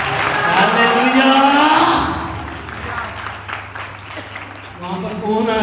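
A church congregation at a Sunday meeting applauds and cheers, a broad continuous wash of clapping and voices that is loud at first, then eases slightly and swells again near the end.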